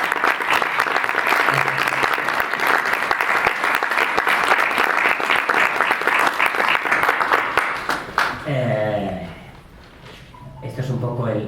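A large audience gives loud, sustained applause at a Godzilla 70th anniversary tribute event, dense clapping filling about eight seconds before fading as a voice begins speaking over the tail end.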